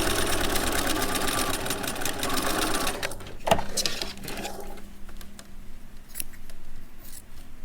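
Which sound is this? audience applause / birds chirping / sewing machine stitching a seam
sewing machine stitching a seam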